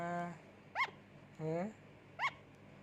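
A small puppy snuggled under a blanket gives three short, high yips spaced about a second apart, close and fairly quiet, with someone speaking softly at the start.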